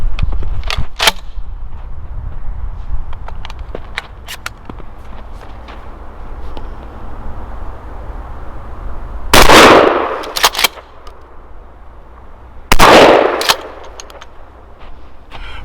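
A Remington 870 Tactical 12 gauge shotgun fires 00 buckshot and then number 8 birdshot at 15 yards, giving two loud, sharp blasts a few seconds apart over quiet outdoor background.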